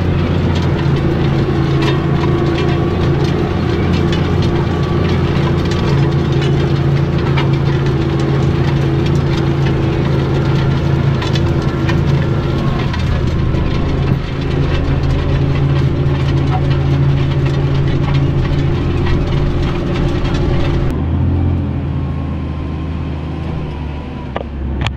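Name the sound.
New Holland TM190 tractor engine pulling a subsoiler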